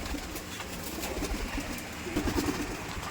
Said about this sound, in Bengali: দর্শকে এলো সাবির ভাইয়ের খামারের কবিতরগুলো